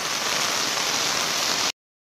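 Steady, dense hiss of heavy rain close by, continuous and even before cutting off abruptly near the end.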